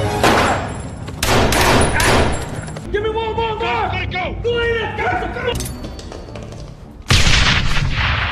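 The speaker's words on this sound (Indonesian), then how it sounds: "Abib yang sedang terpojok pun menembak Chris, lalu Daniel pun menembak Abib." Gunshots in an action film about a sniper team, loud sharp bursts at the start and end around dramatic music and a voice, with a short quieter passage between.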